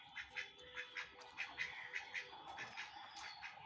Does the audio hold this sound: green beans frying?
no